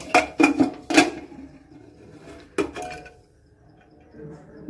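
A pressure cooker lid is worked open after a steamed eggless cake, giving a quick cluster of three sharp metallic clanks, a pause, then another clank and fainter rattles, close by.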